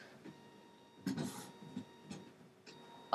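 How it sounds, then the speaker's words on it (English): A home printer running noisily indoors, faint and intermittent, with a few brief mechanical bursts and clicks over a quiet hum. "My printer's going nuts!"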